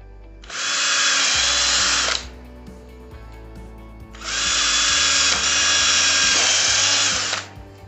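A power drill bores bolt holes in a boat cover support pole, two long steady whirring bursts, each about two seconds, close and loud with a short pause between them.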